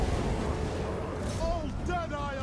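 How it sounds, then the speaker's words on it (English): Explosions in a Warhammer dwarf battle video game rumble and crackle as dense, low battle noise, partly masked by game voices shouting over them. "There's a nice explosion here."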